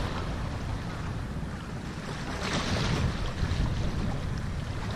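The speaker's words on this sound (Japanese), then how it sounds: "結構正面から風が強い" Strong head-on wind on a shoreline during autumn squid fishing with egi lures, a constant loud roar of wind buffeting the microphone mixed with surf, surging slightly midway.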